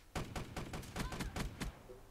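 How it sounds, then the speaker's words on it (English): Rapid shotgun blasts in Black Ops 3 multiplayer, seven or eight loud booming shots fired in quick even succession over about two seconds, close and dominant. "those shotguns cycle through so quickly"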